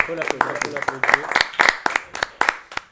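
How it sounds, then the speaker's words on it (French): A small group claps in scattered, uneven applause at a live MMA event, a voice speaking over the first second before the claps continue alone and taper off. "Et vraiment félicitations, on peut l'applaudir."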